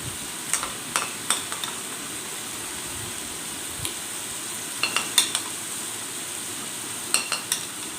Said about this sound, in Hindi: अब लहसुन और अदरक को चिकन के साथ 2 मिनट तक अच्छी तरह से भून लेंगे।